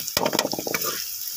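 Masala spices hitting hot mustard oil with fried onions for a fish curry give a loud crackling sizzle up close, with a burst of sharp spits at first that settles into a steadier, fainter hiss.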